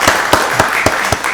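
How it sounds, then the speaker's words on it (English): Applause from the audience at a Rockdale County Board of Commissioners meeting, a short run of sharp, evenly spaced claps sounding fairly loud and close, with no talk over it. "let's give Deidre Golston a round of applause back there"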